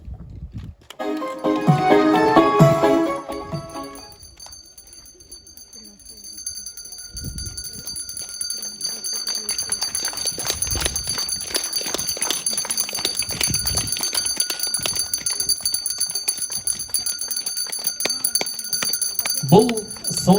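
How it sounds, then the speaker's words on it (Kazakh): School last-bell graduation ceremony in Kyzylsuat village, a handbell ringing briefly and brightly near the start, followed by a long stretch of outdoor noise and murmuring voices. "Бұл соңғы қоңырау үні"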